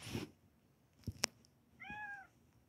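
A cat gives a single clear meow near the end, preceded by a few brief clicks and knocks in a quiet room.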